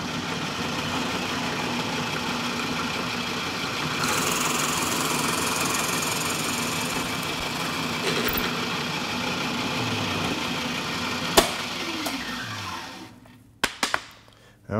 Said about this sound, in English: Okay, we've drilled it all the way through.